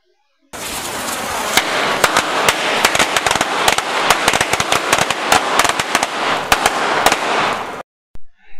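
Firecrackers blowing apart the walls of a model building, a dense rapid string of sharp close bangs lasting several seconds, ending abruptly with a couple of muffled thumps after a brief pause.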